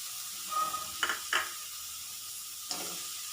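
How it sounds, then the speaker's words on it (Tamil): Chopped carrots, beans, cabbage and capsicum are stirred in a lightly oiled frying pan for egg fried rice, a soft steady sizzle with a few brief scraping clicks of the spoon against the pan. "முட்டைக்கோஸ், கேப்சிகம் எல்லாத்தையும் சேர்த்துட்டு நல்லா கலந்து விட்டுருங்க"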